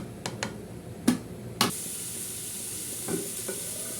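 Fish curry soured with tamarind boils in a pan: a soft, steady hiss and bubbling, broken by a few sharp utensil knocks, heard close with no talking.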